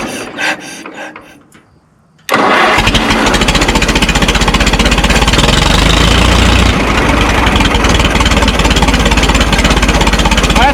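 A Minneapolis Moline Z tractor engine starts and then idles loudly and steadily, with a close, chugging rumble. It follows a few seconds of quieter fiddling with the tractor's wiring.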